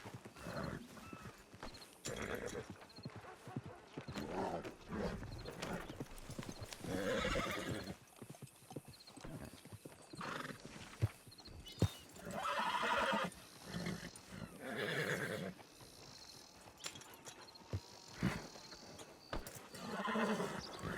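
Horse neighing and hooves clopping in the video game Red Dead Redemption 2, with whinnies rising over steady clip-clop hoofbeats and background game sounds throughout.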